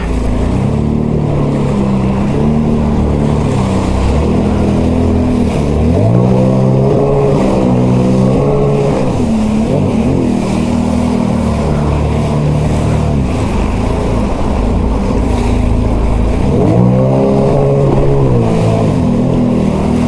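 A loud Sea-Doo Spark Trixx personal watercraft engine roars continuously, its pitch rising and falling as it accelerates repeatedly over choppy water.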